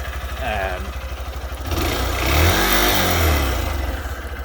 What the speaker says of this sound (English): a lot of what you can hear is actually engine noise, not exhaust